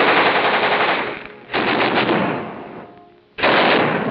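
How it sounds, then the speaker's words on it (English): Sustained machine gun bursts from WWII Marines test firing weapons before the 1943 Tarawa assault, loud and rapid, broken by two short pauses, with no voices. "Check and test fire all weapons."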